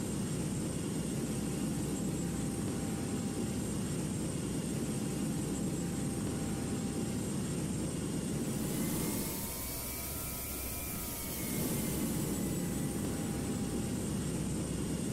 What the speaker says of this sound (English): it's getting kind of hard to even hear myself talk without having to be interrupted by the game's engine sounds